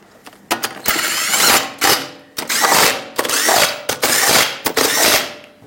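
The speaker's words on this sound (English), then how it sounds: "Put back all 5 of your lug nuts, snug them up in a cross pattern, and also in a cross pattern, torque them to 79 foot-pounds" Wrench fastening five wheel lug nuts in a cross pattern, several close, loud bursts of ratcheting and whirring separated by short pauses.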